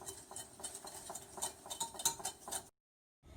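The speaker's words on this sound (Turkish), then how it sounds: "Ve bunu kabarana kadar çırpmaya başlıyorum arkadaşlar." Eggs and sugar are whisked in a bowl, a quick, steady clinking and scraping of the whisk against the bowl, close and clear, stopping abruptly before a brief resumption.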